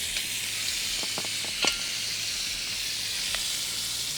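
Butter sizzling in a hot pan alongside wapiti backstrap, a steady soft hiss with a few faint clicks and scrapes of a utensil, close but quiet, with no talking.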